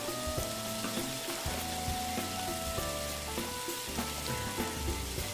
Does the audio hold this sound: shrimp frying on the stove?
yes